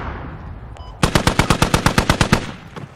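A fast automatic burst of about fourteen evenly spaced shots fired close by in the video game Squad, during an infantry match on the Chora map. A faint metallic click comes just before the burst.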